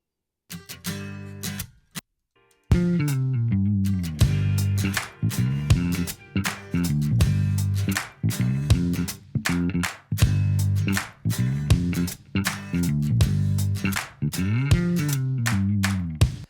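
Strummed acoustic guitars play a rhythmic chord pattern after a short quiet start, with steady choppy strokes throughout.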